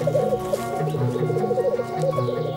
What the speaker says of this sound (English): Males woo the ladies with a bubbling sound called rukuing.